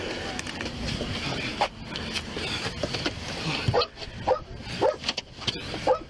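A dog barks in short repeated bursts during a tense scene with a medic present, the barks standing out in the second half over background commotion and voices.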